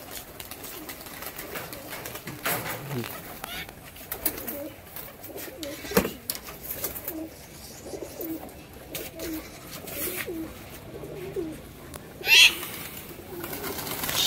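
Flock of tumbler pigeons taking off and circling over a house, with soft cooing and wingbeats coming and going at moderate distance over a steady outdoor background, plus a brief louder flutter near the end.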